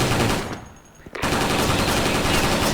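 A G36C rifle firing fully automatic in the Special Force online shooter, loud and close. Dense rapid bursts fill the scene, break off for about half a second, then a single sharp shot leads into another sustained burst.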